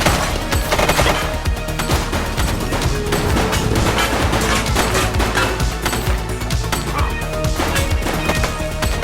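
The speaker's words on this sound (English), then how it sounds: "She's shooting!" Gunfire in the police video game The Precinct rattles as dense, rapid volleys of shots, loud and continuous throughout with crashing impacts mixed in.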